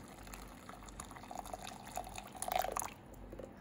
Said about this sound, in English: So I'm just gonna put the sachet here and then add boiling water,